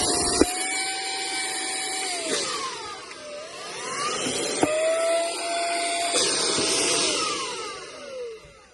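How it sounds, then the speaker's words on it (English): A Vogma wireless compressed air and suction device runs continuously up close, a strong whirring motor hum with shifting whining tones as the unit is turned, punctuated by a few faint clicks. "Then we will spin the device around, and it definitely has some suction to it."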